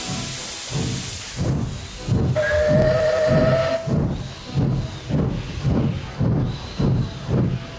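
A guard's whistle sounds once in a steady shrill blast over rhythmic steam chuffing and hiss from a nearby locomotive.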